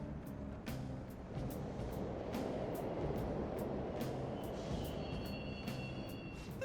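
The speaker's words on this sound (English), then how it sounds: "The trains are totally running." Subway trains rumble through a Mementos tunnel in Persona 5 Royal, a loud continuous low roar with rhythmic clacks and a faint high squeal of wheels, no voices over it.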